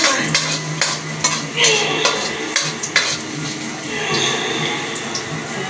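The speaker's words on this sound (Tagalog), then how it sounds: "Sote ng bawang." Garlic sautéing in a pan, a steady sizzle under repeated stirring scrapes and clinks of utensil against the pan, with occasional background voices.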